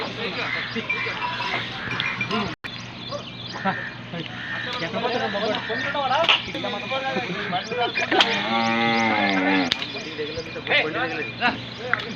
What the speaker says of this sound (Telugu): ఈ ఎద్దులు మొత్తం పత్తికొండకైతే లోడ్ అయితే చేస్తున్నారు ఇక్కడ.